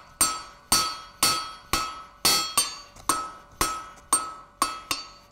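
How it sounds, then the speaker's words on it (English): A hammer forges a hot steel bar into a chisel taper on an anvil: about a dozen sharp, ringing metallic strikes in a steady rhythm, each decaying briefly, loud and close. "I want to work from two sides to forge my chisel taper because I don't want it swelling out wider than the bar"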